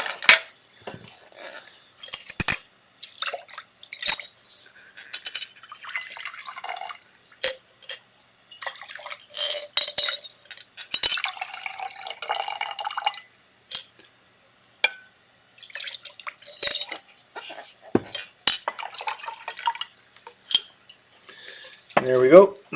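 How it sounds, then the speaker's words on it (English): A metal coin ring is rinsed in clean water. Scattered clinks, taps and drips of metal against a dish come in irregular bursts over about twenty seconds, close up, with brief quiet gaps and no talking. "And then rinse it with clean water."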